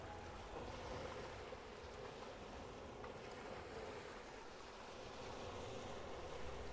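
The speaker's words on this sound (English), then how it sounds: "Nothing ahead but ocean, and the sound of waves far below." Steady ocean surf far below a seaside cliff in Bali, a continuous broad wash of waves with wind noise and no distinct breaks, moderately faint throughout.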